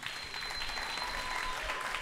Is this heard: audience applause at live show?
yes